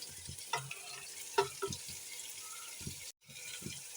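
Ground spices with yogurt frying in a pan for an aloo baingan curry, a soft continuous sizzle broken by several brief scraping stirs and a short dropout near the end, with no talking.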